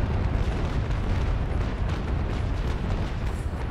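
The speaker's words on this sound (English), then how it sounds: "I accidentally hit the broadside button when I didn't wanna." Naval Action warship broadside cannon fire, a dense continuous rumble of overlapping booms that stays loud and steady throughout, with no separate shots standing out.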